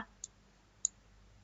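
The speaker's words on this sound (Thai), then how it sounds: "จากนั้นให้คลิกเมาส์" A computer mouse gives two faint, sharp clicks about half a second apart in a quiet room, with no speech.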